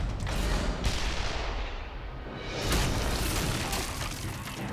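M3 Carl Gustaf recoilless rifle firing, heard as a deep heavy boom with a broad rumbling blast that swells, dips and rises again, loud and close, with no voices.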